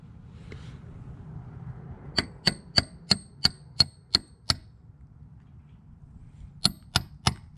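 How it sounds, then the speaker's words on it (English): A hammer rings out in sharp metallic strikes while a diesel heater is being fitted in a garage, eight quick, evenly spaced blows, then a pause and four more, loud and close over a low background hum. "Hammer."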